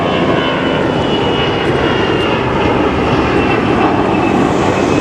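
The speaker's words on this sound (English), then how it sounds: "whoa, there's an airplane." A fixed-wing airplane passes overhead near a water recycling facility construction site in Playa del Rey, Los Angeles, its loud steady engine roar filling the whole stretch with no talk.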